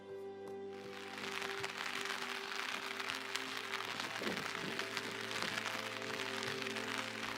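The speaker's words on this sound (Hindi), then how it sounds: "बारिश हो रही है मगर हमारा सफ़र जारी है।" Rain falls steadily on a road trip through Neelum Valley, a dense even patter heard from inside a vehicle over a constant low engine hum, with no talking.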